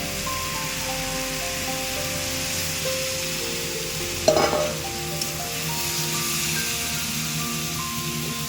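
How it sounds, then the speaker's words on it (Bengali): Water poured into a hot pan of greens cooked with fish heads, giving a steady sizzle with a sharper hiss burst midway before it settles back to a constant frying noise. "আমি এটা দিয়ে একটু জল দেবো"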